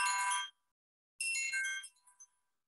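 A phone rings in two bright, tinkling electronic bursts separated by a short silence, the second trailing off in a few quieter chimes.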